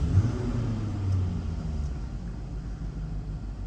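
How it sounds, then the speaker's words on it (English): A Jaguar F-Type R with a supercharged 5.0 V8 starts up, giving a brief deep rumbling flare that settles into a low, steady idle heard from inside the car. "So start the car."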